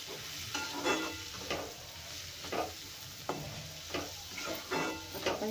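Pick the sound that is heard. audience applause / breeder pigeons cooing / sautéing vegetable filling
sautéing vegetable filling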